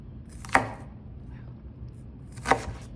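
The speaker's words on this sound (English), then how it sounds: "And then if we cut this way, and you get nice diced onions" A knife chops through an onion on a cutting board in two sharp, separate strikes about two seconds apart, close and fairly loud against quiet background.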